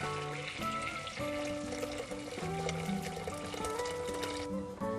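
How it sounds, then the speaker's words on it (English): Hot boiling water pouring into a cooking pot for whole wheat fusilli pasta, a steady continuous gush with a rushing, splashing wash and bubbling hiss throughout, close and moderately loud with no talking. "So in goes some hot boiling water into the same pot."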